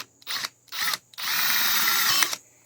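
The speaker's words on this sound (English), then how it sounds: "drill a hole, and then what I do is come on the other side" A power drill whirs in two short bursts, then runs steadily for over a second as it bores through plastic, close and loud.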